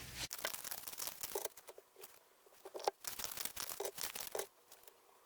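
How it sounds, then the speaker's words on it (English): Tarot cards being shuffled close by in a quiet room: crisp bursts of riffling and slapping card stock come in uneven clusters, separated by brief pauses, with no talking. "So I'm going to shuffle some more cards and see what else comes out."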